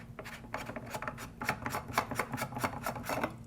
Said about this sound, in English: you're going to have to hacksaw the PVC to be able to turn and remove that fitting